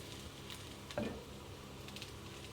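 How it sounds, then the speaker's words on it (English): Chopped capsicum and garlic hitting a hot pan for fried rice, making a quiet, steady sizzle with a short clatter as they drop in, then soft crackling. "in go the capsicum and the garlic"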